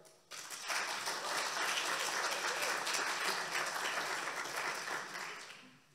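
A panel-discussion audience applauds to welcome a panelist, clapping swelling in quickly after a brief pause and holding as a dense, even crowd roar before tapering slightly at the end.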